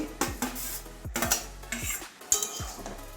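Fried egg being stirred into cabbage curry in a metal pan, a run of sharp, irregular spatula scrapes and clanks against the pan, close and fairly quiet with a faint sizzle underneath.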